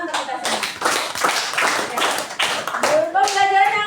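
Classroom applause in a mathematics lesson, a few seconds of scattered clapping from students mixed with children's voices and chatter, ending with a higher sung or shouted tone.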